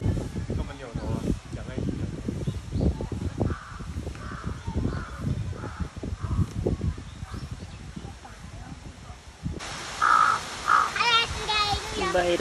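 A crow caws a few times outside an eagle cage at Tama Zoo in Tokyo, the calls fairly clear near the end while people talk through most of the scene.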